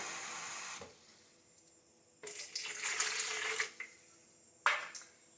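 Water from a tap pours into a cup in two bursts, a longer stream followed by a brief splash, close and clear with no talking, while making homemade Thieves cleaning wipes.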